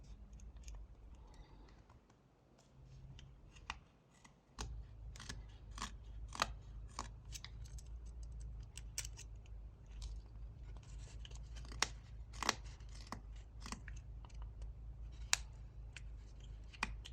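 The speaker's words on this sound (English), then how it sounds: "we're going to start this slimming down by making a stop cut right below where this sweeping cut" A knife whittles a wooden chess bishop, making a stop cut. Crisp, irregular cutting clicks and scrapes come close-up, growing busier after a short lull early on, with no talking.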